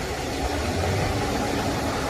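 A Hyundai Euro 6 diesel engine runs under a pressed accelerator and holds a steady, dense drone without climbing, loud and close, with no voices over it.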